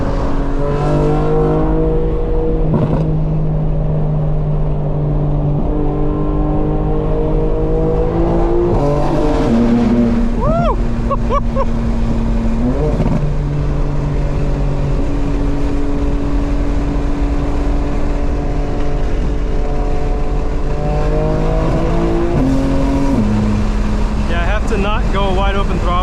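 A 2025 BMW M4 Competition xDrive, tuned to about 900 horsepower, revs hard at wide open throttle, its engine note climbing through gears toward the red line in a loud, sustained cabin roar with a brief talking voice over it.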